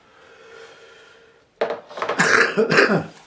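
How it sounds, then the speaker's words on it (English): A quiet hum gives way to a burst of harsh, raspy coughing, several rough hacks in quick succession, close and fairly loud. "coughing away"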